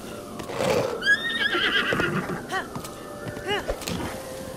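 Horse neighing in Zelda: Breath of the Wild, with two loud whinnies with shaky, warbling pitch, followed by snorts and short rising calls over quiet game ambience.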